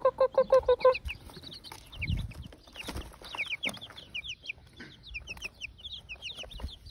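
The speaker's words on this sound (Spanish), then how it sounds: "no olvidemos a mis pollitos" Backyard chickens and chicks cluck in a quick run of close, rhythmic calls, followed by scattered softer clucks and high chirping peeps from the flock.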